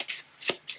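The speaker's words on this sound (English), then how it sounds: "Shuffle." Cards for the Arkham Horror board game riffled in a short quick shuffle, two or three close papery bursts at moderate volume with no voices over them.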